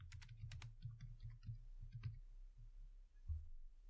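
Code is being typed on a computer keyboard in a rapid run of light clicking keystrokes that slows to scattered taps, with a close but quiet sound and no voices.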